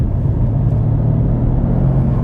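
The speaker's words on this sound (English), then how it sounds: "And this does have a good old V8 underneath the hood." Steady low idle rumble from the V8 engine of a 2021 Mercedes-AMG C63s sedan, a close, even drone with no revving and no talk.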